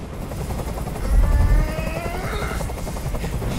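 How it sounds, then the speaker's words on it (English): A helicopter's rotor thumps in a steady, fast chop with a whining engine tone, loud and continuous, swelling slightly in the middle, in the video game Detroit: Become Human. "Tell that helicopter to get out of here!"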